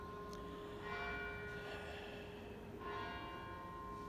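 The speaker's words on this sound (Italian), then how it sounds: "Vedete anche questo rindondio delle campane proprio in questo momento" Church bells ring faintly and far off at Christmas time, soft repeated tolls washing over a steady, noisy background hum.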